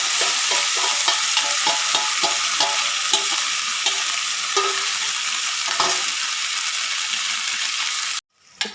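A coarsely ground chilli spice paste hits hot oil for fried fish and sizzles loudly and steadily, with repeated scraping stirs against the pan, until the sound cuts off abruptly near the end.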